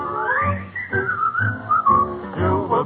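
A person whistles a bright, wavering tune, close and clear, a few short sliding phrases with a low musical accompaniment underneath and no talking.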